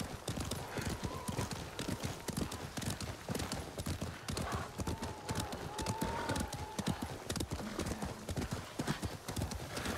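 Horse hooves clip-clop in the samurai game Ghost of Tsushima, a steady rhythmic stream of hoofbeats close by, with a brief neigh-like tone in the middle and faint voices underneath.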